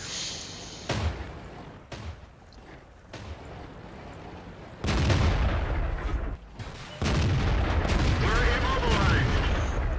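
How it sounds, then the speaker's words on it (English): A Soviet KV-1 tier V heavy tank in World of Tanks fires its gun blind, giving several loud booming shots spaced a second or more apart over a steady battle rumble, with a heavier, sustained blast toward the end. "So I start blind firing because something over there is shooting out this area."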